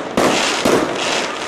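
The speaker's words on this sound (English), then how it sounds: "it's best firework constant display I've seen." Fireworks display at Fantasy Island, with two sharp bursts in quick succession, each followed by loud crackling that hangs in the air, heard close and without voices.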